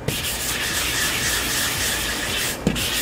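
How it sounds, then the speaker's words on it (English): A car bumper is hand sanded with 240 grit sandpaper, a loud steady scratchy rubbing that runs without pause, broken only by a brief knock near the end. "We're working with 240 sandpaper now."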